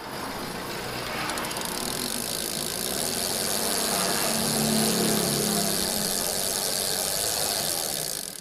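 A Solon silvering alloy cassette-type bicycle hub freewheels in a steady, continuous high-pitched ratcheting buzz of rapid clicks, close and loud throughout with no pauses.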